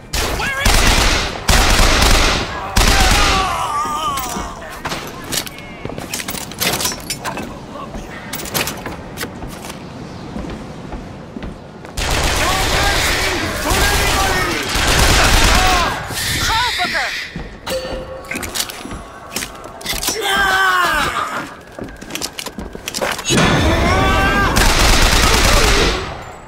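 Gunfire rattles through a Bioshock Infinite firefight in repeated loud bursts of automatic fire and single shots, with thumps, brief pauses, and voices talking in between.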